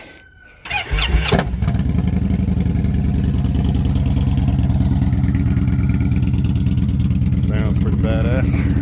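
A 2016 Victory CCT motorcycle with its mufflers removed starts up and idles loudly, a deep, raw, steady open-pipe rumble that continues to the end, with brief throttle blips near the close.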